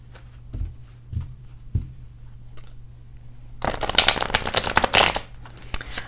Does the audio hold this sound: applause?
no